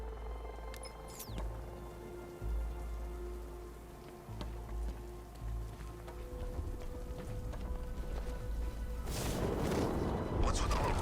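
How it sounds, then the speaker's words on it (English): Rain in the video game Batman: Arkham Knight, a broad hiss that swells over steady game ambience and grows loud and dense during the last couple of seconds. "What's with all the rain?"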